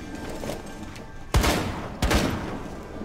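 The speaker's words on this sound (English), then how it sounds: "Where are they shooting from?" Two loud, close gunshot bursts crack out about half a second apart in a Rainbow Six Siege team deathmatch on the Kafe Dostoyevsky map, over a low ambient hum.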